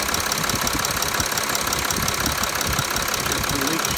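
A Sprinter van's diesel engine idling after its leaking injector seals were replaced, a steady close-up clatter with a knocking rhythm that stays even throughout, with no talk over it.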